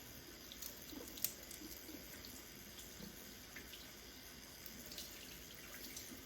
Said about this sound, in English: You can just allow the water to pour over your wig or